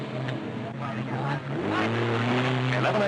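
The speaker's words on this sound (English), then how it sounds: "after 2 hours, Des West still dominates the race" Race cars at the 1968 Hardie Ferodo 500 at Bathurst, engines droning steadily and rising in pitch as they pass, loud throughout with a narrator talking over them.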